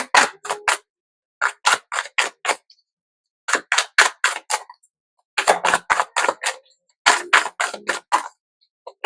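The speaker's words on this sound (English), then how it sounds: "Let's shuffle." A Soul Symphony card deck shuffled by hand in several close, crisp bursts of rapid riffling clicks separated by brief pauses.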